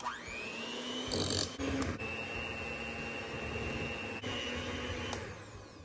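An electric mixer whisks butter, cream cheese, vanilla extract and sugar for carrot cake cupcakes with a steady motor whine and drone, broken by a few brief louder bursts as the beaters hit the bowl.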